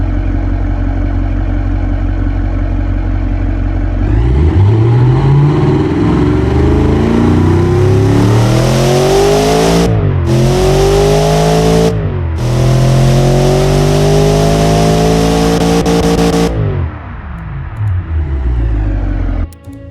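A 5-liter direct-injection DOHC V8 engine in the video game Automation roars as it revs up repeatedly, pitch climbing through gears with brief drops between, loud and close before settling back down.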